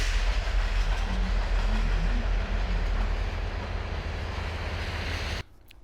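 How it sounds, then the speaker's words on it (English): A train rumbles past nearby with steady clickety-clack of wheels on rail, loud and continuous for several seconds before cutting off abruptly to quiet. "here comes the train."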